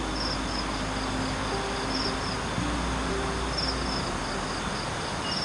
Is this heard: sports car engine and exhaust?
no